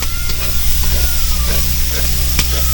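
Food fries in a pan inside a riverbank home on a Ganga char, a loud continuous sizzle with scraping stir sounds over a low rumbling background and a faint steady tone.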